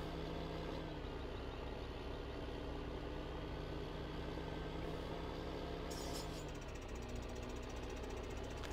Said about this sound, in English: Now we gotta drive this tractor all the way back up.